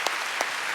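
A congregation claps during a Friday night church worship service, heard as a short, steady wash of applause filling the room.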